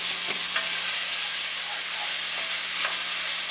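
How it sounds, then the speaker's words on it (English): Steak and sofrito sauté in a hot pan for Puerto Rican steak, a loud close bed of continuous sizzling and crackling with occasional faint stirring scrapes and no voices. "I'm just going to let it saute just a little bit."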